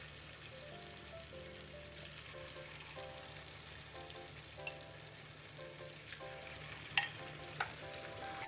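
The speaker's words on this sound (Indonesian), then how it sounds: "Lalu digoreng sisanya." Tofu fritters (bakwan tahu) frying in hot oil give a steady, soft sizzle with occasional brief crackles and pops, low and continuous throughout with no talking.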